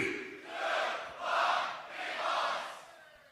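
At the Grand Beatbox Battle 2024, a crowd is shouting out a vote in three rising, swelling roars, each lasting under a second with short dips between, heard from some distance.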